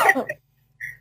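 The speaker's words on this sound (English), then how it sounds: "Cough break." A short burst of coughing up close, followed by a brief pause and a faint throat sound.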